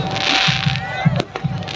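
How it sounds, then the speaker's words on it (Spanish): Fireworks bursting at a town anniversary festival in Huamachuco, a few sharp cracks and pops under a loud crowd hum and continuous chatter nearby. "Los fuegos artificiales."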